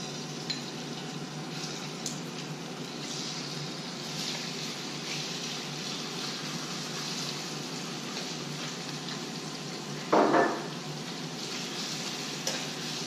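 Shrimp frying in a well-heated wok, a soft steady sizzle running throughout at moderate level, with one brief louder clatter or hiss near the end.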